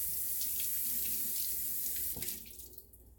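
Kitchen tap running steadily as food, pig trotters, tails and ears, is rinsed under it; close, full water rush that breaks up and thins out near the end as the flow changes.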